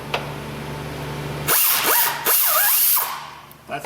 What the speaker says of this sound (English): When you're using a ratchet like this in tight quarters